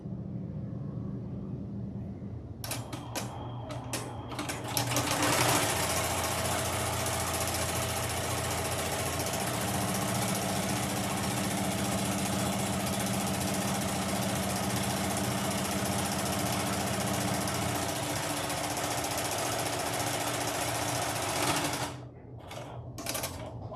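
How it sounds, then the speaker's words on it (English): An embroidery machine top stitching a zipper bag in the hoop, a loud, steady mechanical whir with rapid needle chatter that starts after a few seconds and runs continuously before stopping abruptly near the end. "Now it's going to go and do the top stitching."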